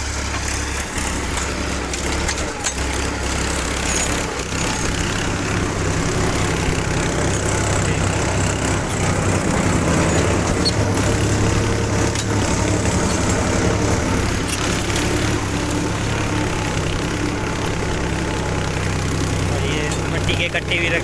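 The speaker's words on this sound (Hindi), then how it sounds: "लोड पे चल रहा है ट्रैक्टर।" A Powertrac 434 tractor engine labours under load while pulling a 14-disc harrow through a wet field, a steady loud low drone running continuously throughout, with a person talking over it at times.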